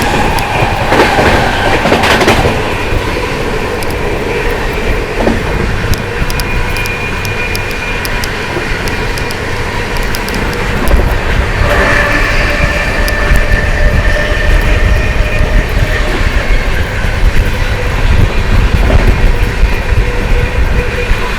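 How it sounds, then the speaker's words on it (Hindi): Shiv Ganga SF Express passenger train running on rails between Banaras and New Delhi, heard from on board as a steady, loud, continuous rumble with rhythmic wheel clatter and faint squeal throughout. "अपनी ट्रेन थोड़ी सी शांत हो गई है, लेकिन हाँ स्पीड फिर से पकड़ेगी बहुत ज़्यादा तगड़ी"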